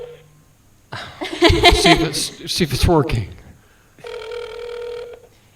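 A telephone dials a number and rings, a steady electronic ring tone sounding near the end after people talk and laugh over brief tones.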